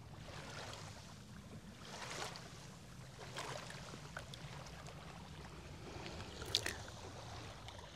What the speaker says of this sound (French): d'écouter le bruit de l'eau.